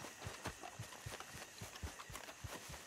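Horse galloping in Red Dead Redemption 2, a quiet, fairly distant rhythmic run of hoofbeats repeating steadily over a faint outdoor background, with no talk.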